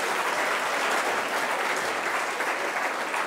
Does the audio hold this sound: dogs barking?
no